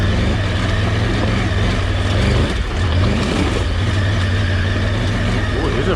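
An off-road vehicle labours in first gear along a rough coast-to-coast off-road route, its engine a loud, close, continuous drone with a brief dip midway before it pulls hard again.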